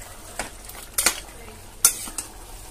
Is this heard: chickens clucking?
no